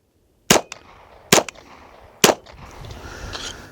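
Three sharp gunshots ring out one after another at a swinging golf ball target, each a loud close crack with a short metallic ring, followed by a low rustling hiss.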